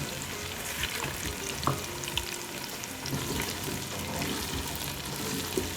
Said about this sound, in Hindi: अब इसमें अदरक लहसुन पेस्ट तकरीबन 1 से 2 खाने के चम्मच शामिल करें और इसे 1 मिनट तक फ्राई करें